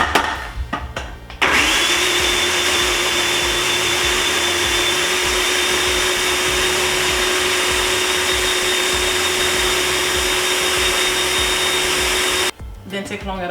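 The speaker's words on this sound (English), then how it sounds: "Didn't take long at all, just about 5 minutes or so for you to blend this baby up. Remove it from the food processor, put everything aside." A food processor blends malanga fritter batter with egg in one loud, steady whirring run of about eleven seconds, a motor drone with a constant high whine that starts abruptly and cuts off near the end.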